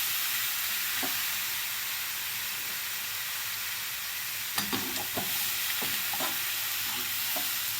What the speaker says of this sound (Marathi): आता आपण हा जो अर्धवट मसूर शिजवून घेतला होता तो घालायचा आहे त्यामध्ये. मिक्स करून घ्यायचं आहे बघा.